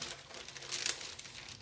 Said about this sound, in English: Cover it back up with parchment paper